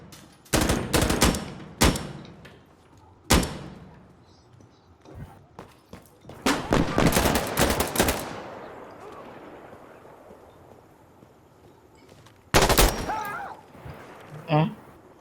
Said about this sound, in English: Okay, burst fire is good enough.